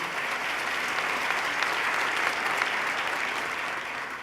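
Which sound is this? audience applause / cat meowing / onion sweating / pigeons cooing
audience applause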